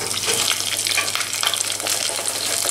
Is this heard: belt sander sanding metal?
no